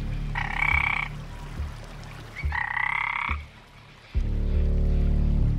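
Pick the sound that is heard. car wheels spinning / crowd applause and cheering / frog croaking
frog croaking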